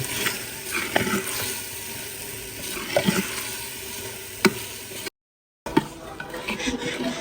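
A spoon stirs a spiced keema masala of salt, ajwain, turmeric, amla powder, fenugreek, cinnamon and cumin in a pan, giving a steady sizzle broken by scraping strokes and sharp metallic knocks, with a short gap near the end.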